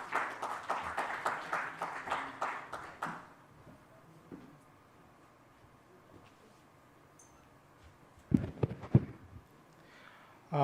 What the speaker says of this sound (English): A big round of applause, ladies and gentlemen,